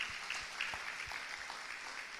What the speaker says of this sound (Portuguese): Vamos aplaudir, querido.